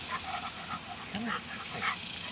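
A dog pants softly with faint whimpers during a social meeting with other dogs, the sounds quiet and somewhat distant.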